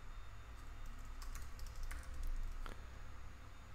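Someone types a password on a computer keyboard, a quick run of soft, close key clicks in uneven bursts over a low background hum, no voices.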